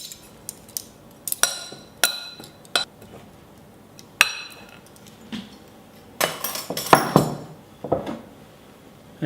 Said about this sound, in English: We then mix this all together.